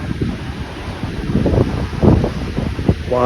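Gusty wind buffets the microphone on a beach as rough sea waves churn after Cyclone Ditwa, a loud, continuous roar with uneven surges.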